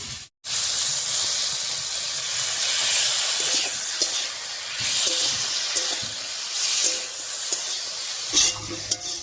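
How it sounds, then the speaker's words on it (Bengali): Green chilli paste hits hot oil in a pan of fried yardlong beans and potatoes for a village river fish curry, giving a loud, steady sizzling hiss with stirring scrapes throughout and no talk. "এবার দিয়ে দিচ্ছি লঙ্কা বাটা।"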